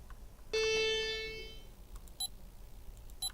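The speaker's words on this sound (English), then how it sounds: "They actually do have a working alarm" An electronic alarm gives one sustained bright beep lasting about a second and slowly fading, followed by a couple of brief sharp clicks; nobody speaks.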